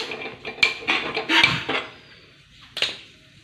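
A wok (kadai) set down on a gas stove, with a few sharp metallic clanks and knocks of cookware at close range, then a quieter pause before one last clatter.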